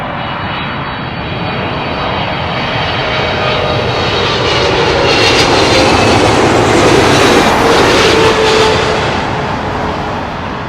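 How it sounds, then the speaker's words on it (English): A Turkish Airlines Boeing 777-300 arrives from Istanbul at London Heathrow, its jet roar building from a distant whine to a loud overhead peak, then easing off as it passes. "777-300, coming in from Istanbul."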